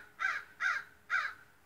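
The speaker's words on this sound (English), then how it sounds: "I guess it's one of those crows." A crow caws outdoors in an early-morning fall garden, three harsh calls spaced evenly about half a second apart, moderately close and clear against a quiet background.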